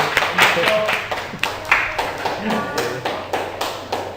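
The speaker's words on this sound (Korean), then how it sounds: "박수 한번 주시죠" A small class of students gives a teacher who bought drinks a short burst of clapping, about four seconds of close, uneven hand claps in a room.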